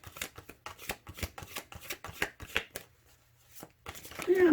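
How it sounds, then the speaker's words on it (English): Tarot cards are riffled and shuffled by hand in quick bursts of crisp, close flutters, followed by a short pause before soft speech begins at the end. "I'm sitting here shuffling and trying to get some information for you."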